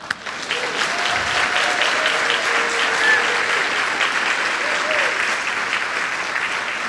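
A large audience claps steadily throughout, a dense continuous wash of applause with a few faint voices beneath.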